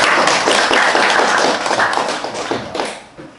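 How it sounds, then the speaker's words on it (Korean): An audience at a forum claps in a dense burst of applause that holds steady, then thins and fades toward the end. "큰 박수 좀 부탁드리겠습니다."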